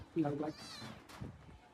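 A house cat gives one short, rising meow close by, following a brief human voice.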